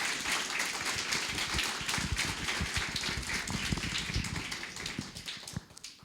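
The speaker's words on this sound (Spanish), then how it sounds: "Un fuerte aplauso para el Señor." A church congregation claps at a Spanish-language worship service, dense hand applause sustained throughout before tapering off at the end.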